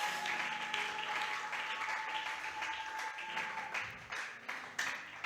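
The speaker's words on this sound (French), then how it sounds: "Est-ce qu'on peut acclamer pour Jésus?" A church audience applauds for Jesus during a French-language service, a broad wave of clapping that gradually thins and fades, with a few louder isolated claps toward the end.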